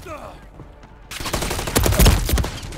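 Heavy video game gunfire, a dense volley of overlapping shots erupting after a quieter first second and growing louder, with a voice calling out over the shooting.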